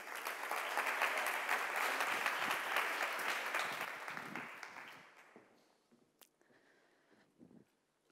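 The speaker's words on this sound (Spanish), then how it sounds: "Aplaudiu-la, sisplau." Audience applause at a Metadecidim conference session, a steady dense wash of many hands clapping for about five seconds before thinning out into a few scattered claps and some faint shuffling.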